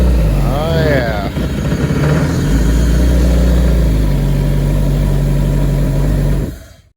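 A 130 horsepower four-stroke fuel-injected engine from a jet boat build runs steadily, a loud continuous low drone that rises briefly at the start before settling, with a voice talking over it, then cutting off abruptly at the end.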